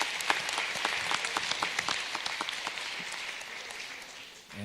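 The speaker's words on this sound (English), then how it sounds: "So if I could have another big round of applause for all of our band members." Audience at a school district board meeting gives a round of applause for student band members, steady moderately loud clapping from a roomful of people that tapers slightly toward the end.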